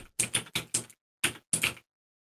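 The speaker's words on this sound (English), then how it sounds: "oh, somebody's typing. I can hear somebody typing." A typing sound effect plays in a fantasy tabletop role-play episode: a handful of sharp, uneven clacks in two short bursts separated by a brief gap, then silence.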